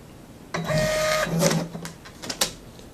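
An Epson TM-T88V thermal receipt printer prints in a quick whirring burst lasting about a second, then the auto-cutter snaps with a couple of sharp clicks, close and clear with no talking.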